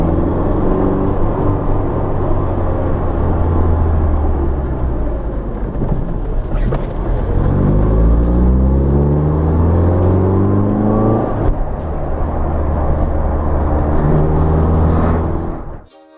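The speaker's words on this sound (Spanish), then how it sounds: "Cualquier momento es bueno para dar un pequeño acelerón y hacer sonar el motor." A 1987 Seat Ibiza 1.5 System Porsche engine revs up loudly and steadily, rising and falling in pitch, close by and alone with no talk.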